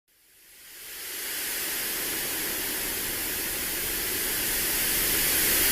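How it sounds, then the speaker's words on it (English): Pink noise played as a sensory call-out, a steady broadband hiss that fades in over the first second and then holds loud and unbroken, with no voice. "the sound of pink noise"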